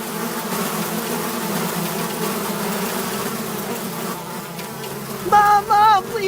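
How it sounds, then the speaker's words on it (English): Bees buzz in a dense, continuous drone that fills the whole stretch, with a few louder close passes rising near the end. "What's that noise? Oh God, the bees."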